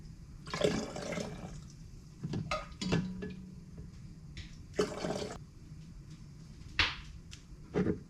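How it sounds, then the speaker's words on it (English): Quart jars being filled with liquid for home canning at a winter Alaska homestead cabin, with pouring and splashing bursts broken by clinks of jars and utensils, close and moderately loud, and no talk. "We're gonna start going to fill these quart jars to 1 inch headspace and get them going in the canner."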